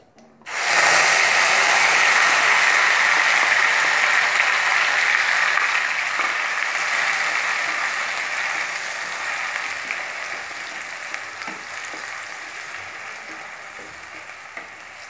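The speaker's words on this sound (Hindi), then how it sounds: "खड़े मसालों में अब हम इसमें प्याज का पेस्ट डालेंगे।" Onion paste hits hot oil with whole spices for rajma masala, erupting in a sudden loud hiss that stays strong, then slowly fades to a steadier sizzle, heard up close with no speech.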